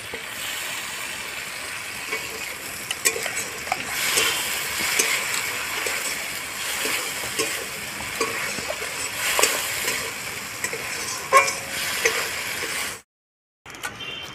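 Shrimp fry with spice paste in a pan and are stirred, a busy close sizzle with frequent scraping strokes, before a brief silent gap near the end.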